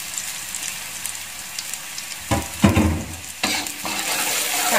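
Onion and then garlic stir-fried in a pan, with a steady sizzle throughout and louder bursts of stirring and sizzling near the middle and end; no talking.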